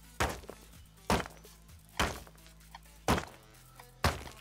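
Stone being gathered in the survival game Rust: five sharp, loud tool strikes on rock, spaced roughly a second apart, over a low steady background hum.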